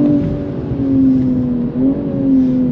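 A 2022 BMW M240i Coupé with a 374 hp engine and 8-speed ZF gearbox revs while driving, a loud, close, smooth engine note that rises and dips with a brief shift-like break.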